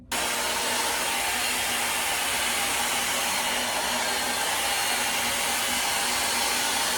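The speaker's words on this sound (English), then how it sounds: "I'm gonna go ahead and blow dry this, smooth it out as I go" A round brush hair dryer blows continuously on a hair topper, a loud, close, steady airy roar that starts abruptly and holds unbroken throughout, with no talking.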